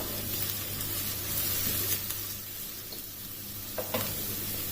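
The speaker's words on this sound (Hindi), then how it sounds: "अब प्याज को इसमें लाइट गोल्डन ब्राउन कलर आने तक फ्राई कर लेना है।" Onions frying in a pan until light golden brown, a steady close sizzle and hiss with occasional louder spits and stirring scrapes, no talk.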